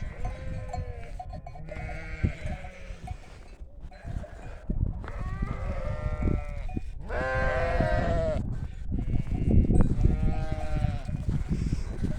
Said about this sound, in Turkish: Koyunlara bak durmuyorlar.